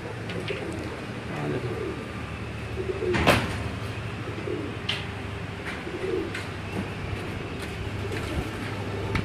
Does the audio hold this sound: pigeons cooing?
yes